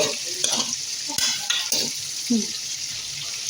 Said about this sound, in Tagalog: lagyan na natin ngayon yung sibuyas. Ayan. Halo-haloin ko lang.